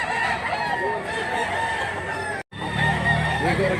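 A Gilmore cross gamecock stag crows close by and loudly, with some clucking in the background. A brief dropout cuts in partway through.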